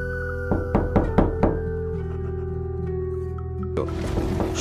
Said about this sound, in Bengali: হঠাৎ তাদের দরজায় কেউ জোরে ধাক্কা দিল।